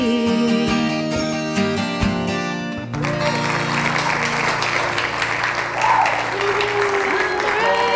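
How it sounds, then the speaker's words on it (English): After a sustained musical chord fades out, applause from a concert audience swells up and carries on steadily, dense and fairly close, to the end. "Applause from all over the world."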